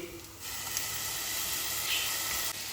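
Ginger-garlic paste hits a hot pan of onions and green chillies, breaking into a loud, steady hissing sizzle that holds evenly for a couple of seconds, with no talk.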